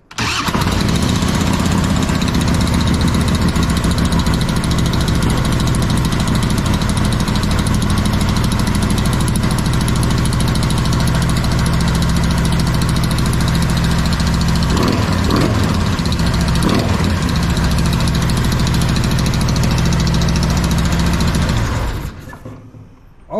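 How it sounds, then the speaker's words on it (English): A Harley-Davidson bagger motorcycle engine cranks and fires, then settles into a steady, loud, close idle that runs unbroken for about twenty seconds before cutting off at the end. "Now, we're going to start the bike up, and we're going to see where we are running."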